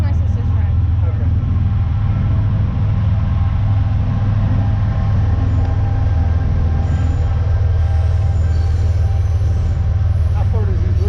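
A long coal train rumbles past steadily, a loud continuous low drone with clanking wheels and faint squeals throughout.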